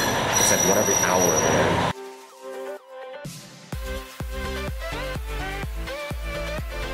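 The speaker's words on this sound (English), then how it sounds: "we're waiting inside this little closed area for the train to come" A train pulls into Noboribetsu station in Hokkaido, its wheels squealing loudly, then quieter rumbling and a series of rhythmic clanks as it rolls slowly to a stop.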